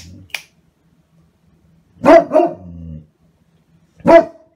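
Great Pyrenees dog barking indoors: a short yip at the start, then a pair of deep, loud, close barks trailing into a low groan, and one more bark after a pause, no speech.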